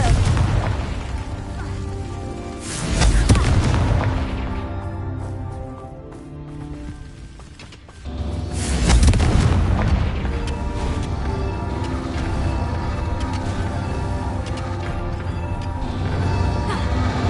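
Confringo fire spell blasts in Hogwarts Legacy, two loud booming explosions a few seconds apart, each followed by a crackling, rain-like rumble that carries on under the game's ambient sound.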